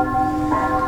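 A church bell rings in Barangay Lonoy under an overcast sky, its steady, humming tone ringing on with a slight swell of strike energy partway through, moderately loud and clear.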